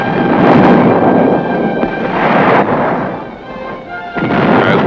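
Tank weapons firing on the Aberdeen test range: loud, heavy booms rolling into a continuous rumble, with fresh blasts swelling up at intervals and no voices.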